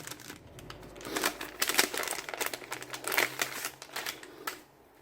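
Packet of small ticket-type tags being handled, bursts of crisp plastic crinkling and rustling at close range with irregular rhythm, fading at the end.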